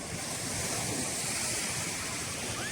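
Soft, low ocean waves, calmed by offshore rocks, wash steadily onto a white-sand beach in Bali, a continuous gentle hiss with some wind noise buffeting the microphone.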